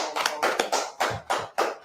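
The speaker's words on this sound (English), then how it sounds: "Let's clap that up." A small group of people clapping along in a steady rhythm, about eight sharp bursts in under two seconds, close and fairly loud with no talk.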